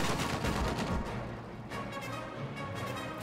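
Gunfire in the World War II strategy game Company of Heroes: rapid bursts of rifle and machine-gun shots crackle over a dense battle din, moderately loud and without voices.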